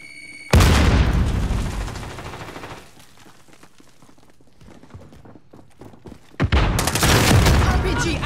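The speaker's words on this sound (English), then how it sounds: "Throwing grenade." A grenade blast and gunfire in Call of Duty: Modern Warfare: a sudden loud boom that rumbles off, a quieter stretch of scattered shots and footsteps, then another heavy burst of explosive fire.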